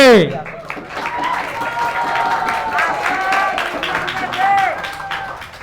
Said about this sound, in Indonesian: Beri tepuk tangannya untuk Regu C.